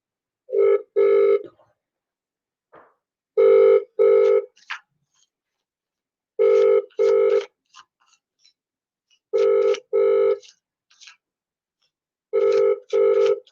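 A telephone rings unanswered in a quiet room, sounding five double-burst rings at a steady, evenly spaced rhythm, loud and close, with no voices.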